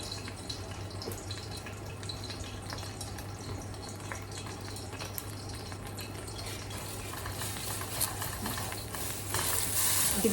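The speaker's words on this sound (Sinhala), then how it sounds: "අපි බිත්තර ස්ක්‍රැම්බල් කරනවා කියන්නේ මේ විදිහට හොඳට මේක බෙද ගන්න තියෙන තෙල් වලින්" Beaten eggs scramble in oil in a pan, giving a steady soft sizzle with scraping and stirring, faint and close, swelling slightly toward the end.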